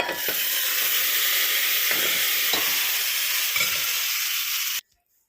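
Spice tempering for a leafy amaranth and lentil curry, a loud, continuous, close sizzle of hot oil with a few faint stirring knocks, ending abruptly in silence.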